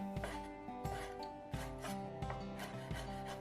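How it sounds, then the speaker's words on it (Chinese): A knife dices peeled, deveined shrimp on a cutting board in a brisk, even series of soft chopping taps and scrapes, close up and fairly quiet. "我们要把这个虾切成丁"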